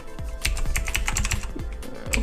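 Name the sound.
typing on a computer keyboard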